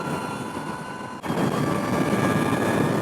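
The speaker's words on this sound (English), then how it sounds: "The whining of the electric motor can sound like straight cut gears on a car." Electric motor of an Energica EGO+ RS superbike whining steadily while riding, a continuous broadband drone with tonal gear-like harmonics that jumps louder partway through as throttle increases, with no talk.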